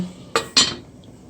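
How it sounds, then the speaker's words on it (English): A lid is set onto a cooking pot of guava simmering for jam: two quick, bright metallic clinks close together at close range, then near silence. "So you're gonna place the lid on the pot."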